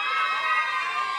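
A crowd of women at a live UK garage DJ set screams and cheers together in a sustained, fairly loud wash of high-pitched voices that barely dips for over a second.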